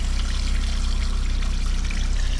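Sewage water pours steadily out of a blocked sewer drain, a continuous close gushing and trickling that stays loud and even throughout.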